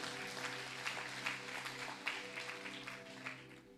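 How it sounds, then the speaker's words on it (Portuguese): A church congregation applauding during a Wednesday family service, a steady round of hand clapping with some sharper claps, fairly distant, over a low sustained background hum. "Você pode liberar suas mãos e aplaudir o Senhor bem forte por essa palavra"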